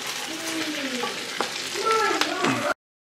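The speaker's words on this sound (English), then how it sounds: "We'll stir it around, toss it, get that good stuff off the bottom in there." Food in a frying pan being stirred and tossed, with continuous sizzling, scraping strokes and a couple of sharp clinks, close up and loud before stopping abruptly.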